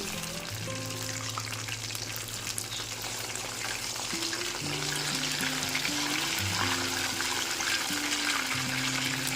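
Fish deep-frying in hot oil as a Kerala-style fish fry, a steady dense sizzle running throughout with low tonal hum beneath, as pieces are turned over to cook the other side.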